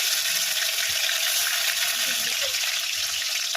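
Tomato frying in hot oil in a kadai after a cumin seed tempering, giving a steady, loud sizzle and hiss that holds without a break, with no talking.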